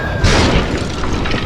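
A loud, booming cannon shot sound effect hits hard and fills the clip with a deep, rumbling roar that lingers without fading.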